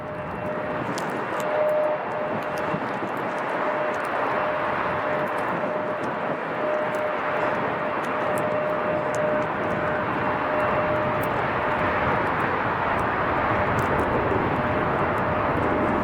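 A Boeing 747-400 with CF6 engines at Chicago O'Hare, a sustained loud jet roar with a steady whine, heard from a distance and holding level throughout with no talk.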